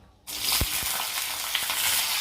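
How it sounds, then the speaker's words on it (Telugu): Green chillies drop into hot oil and burst into a loud, continuous sizzle, close up, with a couple of soft thuds and stirring knocks under the frying and no talking. "పచ్చిమిర్చి వేగడానికి పచ్చిమిర్చి వేసుకోవాలి"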